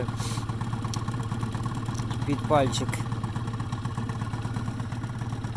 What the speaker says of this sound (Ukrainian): Холостий тримаю взагалі дуже хорошо. Як чуєте по мотору, робить він взагалі тихесечко.